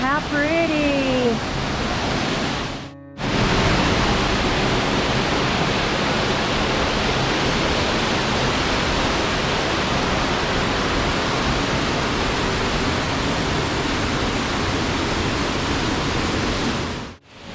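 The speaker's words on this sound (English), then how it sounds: "I wasn't expecting a whole lot out of this waterfall, and it's not very big, but it is absolutely beautiful" A small waterfall at Curt Gowdy State Park near Cheyenne, Wyoming, roars in a steady, loud wash of rushing water, with a brief voice at the start before it continues alone.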